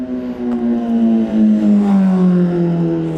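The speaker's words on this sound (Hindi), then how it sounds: "और देखो किसी की बाइक आ रही है" A motorbike approaches near a parked Kawasaki Z900, a smooth engine drone rising and falling in pitch as it revs, close and fairly loud for about three seconds with no talk.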